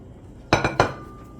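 Herbs and seasonings are mixed together in a bowl, giving two or three quick, bright clinks of a utensil against the dish. The clinks come close together over a quiet background.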